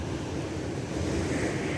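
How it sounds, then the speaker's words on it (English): Ocean waves roll steadily against a shoreline on an active, choppy day, a continuous low wash of surf with some wind noise on the microphone and no voices. "the water is rather active today"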